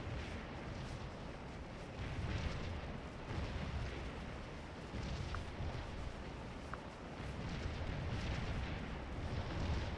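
Continuous low rumbling artillery fire in the Civil War battle game Scourge of War: Antietam, with distant booms rolling into one another at a steady level across the whole stretch.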